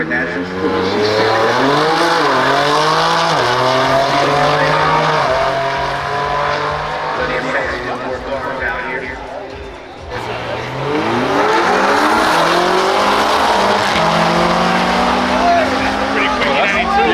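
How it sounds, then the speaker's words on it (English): Drag racing cars at the 2023 Kies auto show roar past loudly in two long runs, their engines revving and rising in pitch with tire squeal, and a voice talks over the racing. "there's actually drag racing at this year's Kies show."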